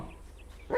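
A pitbull puppy gives a single short, high yip-like bark at the end of a quiet moment, close by.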